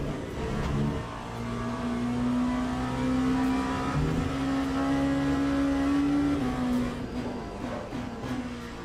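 An LMP2 prototype race car engine in a WEC championship racing game at night at Fuji, a loud sustained high-pitched drone that rises and holds, dips briefly, then climbs again as the car accelerates.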